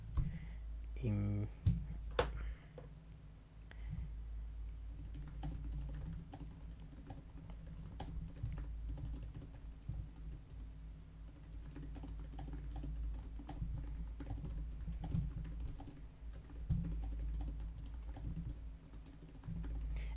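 Steady typing on a computer keyboard to write out words of an article, a long stream of soft, close, irregular key clicks over a low hum, no one speaking.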